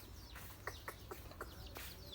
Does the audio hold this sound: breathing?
no